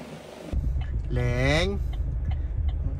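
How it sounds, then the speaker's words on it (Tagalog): A car's engine runs steadily nearby, a low rumbling drone that fills the background while a person speaks over it. "Leng, Asawa mo kukunin ko na yung kotse, alis na tayo ha"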